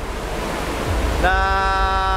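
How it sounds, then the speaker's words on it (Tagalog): Strong rushing floodwater near Bunsuran Falls roars loudly and continuously. A sustained, tonal whine rises over the churning noise partway through. "So ayan yung tubig, ayan oh, grabing lakas na."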